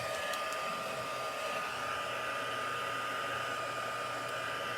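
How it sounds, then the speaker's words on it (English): A heat gun blows very hot air to melt white embossing powder, a steady, even whooshing hum like a hair dryer that runs without pause, with no voices over it. "So a heat gun is like a toaster meets a blow dryer. It's a very, very hot air that blows out"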